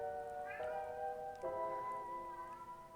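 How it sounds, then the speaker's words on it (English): A pet cat named Bentley meows twice, clear and fairly close, with long tonal cries standing out over a quiet room background and no talking. "except my cat who's meowing"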